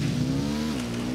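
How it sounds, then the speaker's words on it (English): Motorcycle engine in the Ghost Recon Wildlands video game, a steady close drone holding one pitch and then dipping slightly, running continuously and alone. "I'm riding the motorcycle."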